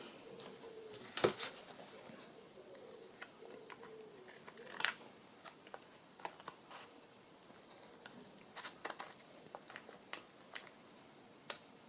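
Scissors trim the sides of a handmade paper belly band in a series of crisp, close snips, with one sharp cut early and scattered lighter clips that follow in an uneven rhythm.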